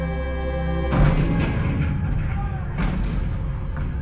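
A sustained low tone is broken by a heavy Civil War-era cannon blast at Fort Sumter, then a second booming shot a couple of seconds later over rumbling noise.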